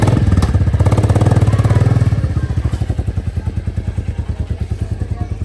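A motorcycle engine runs close by, starting as a loud steady roar and then settling into a rhythmic, pulsing idle chug as the bike is brought out, with no talk over it.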